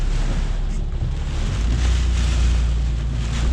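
Strong hurricane wind roaring steadily into the microphone during Hurricane Isaias, a heavy low buffeting rush that swells slightly in the middle, with no voices.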